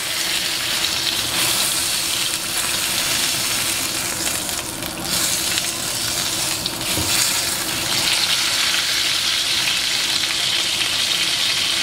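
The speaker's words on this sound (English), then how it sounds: "We are basically just searing off all the sides." Steak searing in a hot pan gives a loud, steady, close sizzle and crackle that runs unbroken throughout, with occasional faint scraping and no talking.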